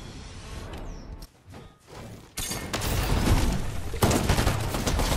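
Gunfire erupts during a fight in a shooter video game, with rapid bursts and shot sounds that swell into a loud, dense barrage in the second half, close and continuous.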